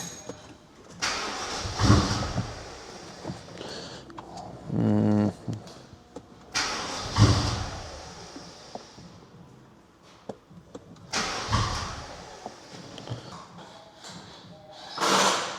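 A BMW with a no-start fault being cranked in a repair shop: several separate bursts of starter motor cranking and rough engine churning that fail to catch, with pauses, clicks and handling noises between attempts.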